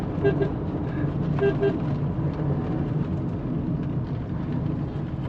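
Busy small-town road traffic in Kasaragod, Kerala, with steady engine rumble and a few short horn toots near the start, people talking in the background throughout.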